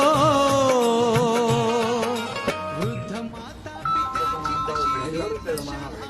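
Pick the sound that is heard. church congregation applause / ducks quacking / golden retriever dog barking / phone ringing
phone ringing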